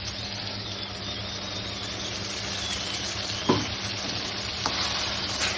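A paste of ground coconut, fennel, tomato and garlic sizzles and fries steadily in a pan for brinjal curry, with a couple of sharp stirring knocks against the metal.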